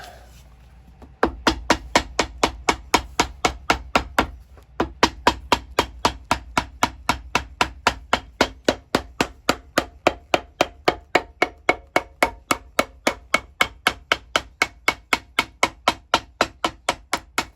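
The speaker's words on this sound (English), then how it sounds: "Now we can hammer it on." Steady, rhythmic hammer blows nailing a heel onto an alligator loafer, dozens of sharp evenly spaced strikes close up, with a brief pause early on before the pounding resumes.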